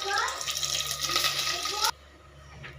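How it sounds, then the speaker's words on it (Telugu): Water pours into a pan of fish curry with a loud, continuous rushing splash that cuts off abruptly after about two seconds, leaving a quieter bubbling background. "పట్టిన పేస్ట్ వేసి కొంచెం వాటర్ అయితే వేసాము"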